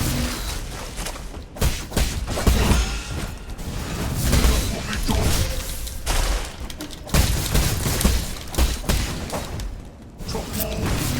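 Gunfire and impacts from the video game Nine Sols, heard as a loud, dense, continuous barrage of thumps, booms and whooshes with only brief dips in intensity.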